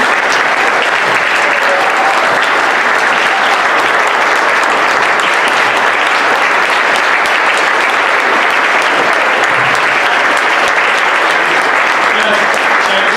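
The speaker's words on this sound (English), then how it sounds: "Let's have a round of applause for all of our candidates here." Sustained applause from the audience at an Iowa Democratic gubernatorial candidate forum, honouring the candidates; a dense, steady wash of many hands clapping throughout, fairly loud and with no pause.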